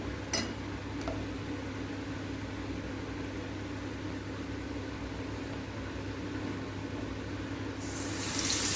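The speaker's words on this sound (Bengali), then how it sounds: "এখন আমি একটা একটা করে চপগুলা ভেজে নিব।" Eggplant chops sizzle steadily in hot oil in a pan, a constant hiss with a couple of faint clicks near the start and the frying growing a little louder at the end.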